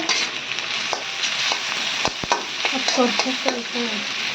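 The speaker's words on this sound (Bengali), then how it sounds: "এখানে হচ্ছে সরিষার তেল দিয়ে রান্না করা হচ্ছে" Pangas fish frying in mustard oil, with steady sizzling and repeated clinks and scrapes of a spoon stirring in the pan, close and continuous.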